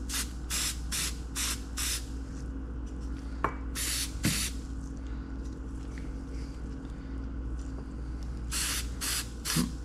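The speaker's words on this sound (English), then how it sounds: "all you want to do is just simply spray it on" Dye penetrant sprayed from an aerosol can onto a Quad City Challenger II bracket, several short hissing bursts in quick succession, then a pause with a couple of light taps, then more bursts, heard close against a low background hum.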